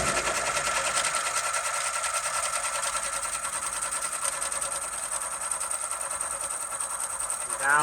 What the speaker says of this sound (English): So it's doing the underlay stitches for letter B. And then once it finishes that up, then it'll come back in and do our fill stitching.